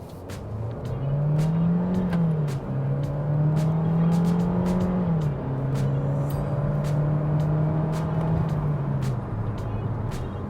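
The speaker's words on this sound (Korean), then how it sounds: "가속감을 한번 볼게요. 풀악셀입니다." A KG Mobility Torres T7 SUV's 170-horsepower downsized engine revs hard under full throttle downhill, its pitch climbing, dropping briefly at each gear change, then climbing again, loud and close throughout.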